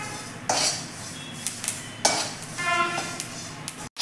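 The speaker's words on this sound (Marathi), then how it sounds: "इकडे कढईमध्ये तीळ घेतलेले आहेत, ते देखील आपण मीडियम गॅसवरती छान असे भाजून घ्यायचे आहेत" Sesame seeds dry-roasting in a kadhai over medium heat, with repeated metallic scrapes and clinks of a spoon stirring against the pan over a soft steady rustle.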